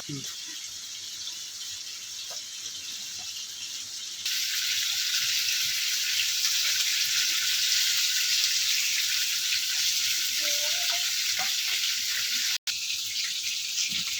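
A constant hissing sizzle from a hot pan, louder after a few seconds when more goes in, with faint voices underneath.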